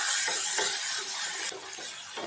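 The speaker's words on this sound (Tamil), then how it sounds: "புடலங்காவை சேர்த்துட்டு நல்லா வதக்கிடலாம்" Snake gourd sizzles and hisses in a hot pan while being stirred, the frying noise loud and steady, easing slightly midway.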